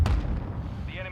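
A heavy missile strike explosion in Call of Duty Modern Warfare II, a deep booming blast at the start that rumbles and decays over a second, with game radio voice chatter alongside.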